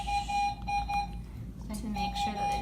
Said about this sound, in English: let me just grab the alarm on our machine